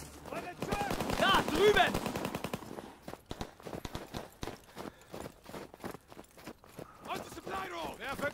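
Gunfire in the multiplayer game Call of Duty WWII: rapid bursts of machine-gun shots, loud and close, with a voice shouting in German over the firing and scattered footsteps between bursts.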